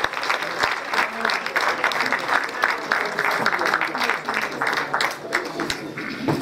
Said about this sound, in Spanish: Démosles fuertes aplausos.